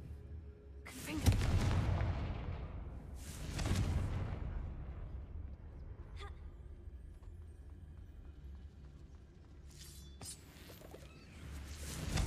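A Confringo blasting curse goes off in a Harry Potter video game with two deep, rumbling booms a couple of seconds apart, then quieter crackles and a later burst of debris-like noise, no voices.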